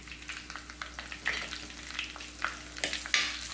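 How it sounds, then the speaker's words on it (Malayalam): Whole spices and bay leaves, with cinnamon, cardamom and cloves, stirred in a hot pan for a curry: a steady oily sizzle broken by a run of quick scraping stirs, close and moderately loud, with no talking. "ഒന്ന് ഇളക്കി കൊടുക്കാം നമുക്ക്"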